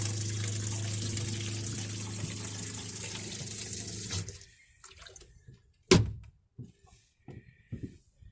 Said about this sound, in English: just take the tube out and all the water will drain overboard